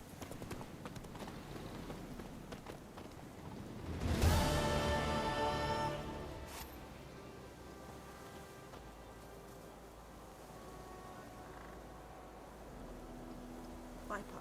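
Hooves of Roach, the horse in The Witcher 3, clip-clop at a steady walking rhythm, swelling louder around the middle with a brief burst of music or effects, then settling back under an ambient game backdrop with faint voices.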